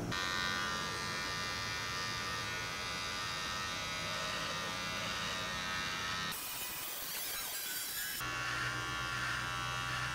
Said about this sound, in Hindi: अब मैं इसका प्रैक्टिकल करने वाला हूँ और ये मेरी जो दाढ़ी है उसको मैं ट्रिम करके दिखाऊंगा।